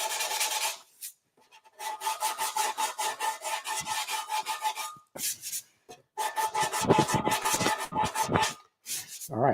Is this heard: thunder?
no